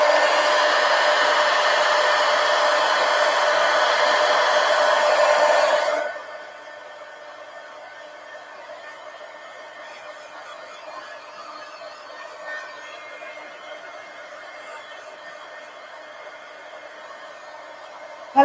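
A hair dryer blows steadily and loudly to dry ink on a drawing for about six seconds, then shuts off, leaving faint room noise and small rustles.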